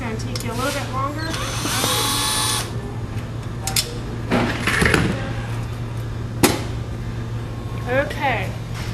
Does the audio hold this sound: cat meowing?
no